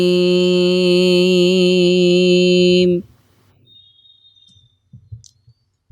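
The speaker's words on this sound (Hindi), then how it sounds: "बैकग्राउंड में बाइक के हॉर्न की आवाज़ थी" A loud, steady motorbike horn blast holds for about three seconds, then cuts off to near silence with a few faint clicks.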